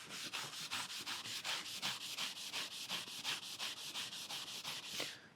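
A black abrasive pad is rubbed back and forth over a stainless steel butt weld, a steady rapid series of scratchy strokes, close and fairly quiet, with no voices.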